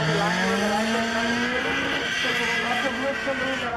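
A Honda car launching hard with tyre squeal, a loud sustained engine note climbing steadily in pitch, with a high squealing layer over it and no talk.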